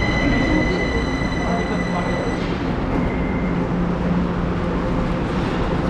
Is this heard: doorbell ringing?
no